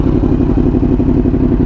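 Yamaha R1 sport motorcycle engine running close and loud, a steady throbbing growl with a fast, even pulse and no talking over it.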